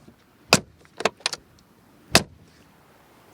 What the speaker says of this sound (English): with those door handles with a classic door closing sound